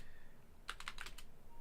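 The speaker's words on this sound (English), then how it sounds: "Not me typing, but here" A short, quiet burst of computer keyboard typing: about six quick keystrokes clustered in under a second against faint background hum.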